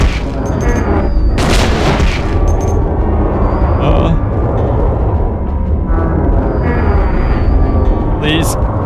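Booming gunshots in the survival horror game Silent Hill 2, several loud heavy blasts spread through the stretch under a steady rumble, with someone talking over them.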